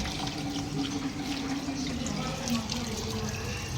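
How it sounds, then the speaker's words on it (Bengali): A tap runs steadily as fish is washed beneath it, a continuous close splashing rush of water that holds at an even level throughout. "চলো এদিকে মাছ ধোয়াধুয়ি হচ্ছে ভাই আমার ছোট ভাই মাছ ধুচ্ছে"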